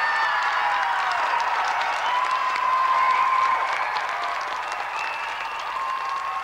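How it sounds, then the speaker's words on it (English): Studio audience applause on the 1992 video game TV show GamesMaster, a dense sustained wash of clapping from a crowd, steady and full for the whole stretch. "Let's have another round of applause for tonight's semi-finalists, Paul Lakin and Duncan McDonald"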